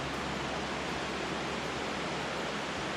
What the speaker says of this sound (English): it sounds like there might be a little waterfall up ahead